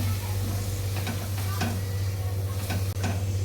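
Fresh masala paste sizzling with onions in a pan for chicken tikka masala, a constant frying hiss with occasional soft stirring scrapes and clicks from a spoon.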